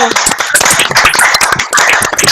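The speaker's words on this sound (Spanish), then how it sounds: "Abramos los micrófonos para darle un aplauso a la Caro." Applause from an audience greeting someone speaker at a talk, dense clapping filling the whole stretch with a brief dip near the end, loud and close.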